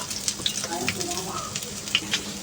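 Taro leaf and red lentil fritters fry in hot oil with a continuous close sizzle and crackle, broken by a few sharp pops and spatters.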